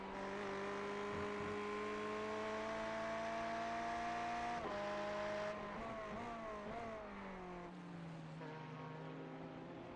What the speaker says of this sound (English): That's the BMW chasing the Ferrari.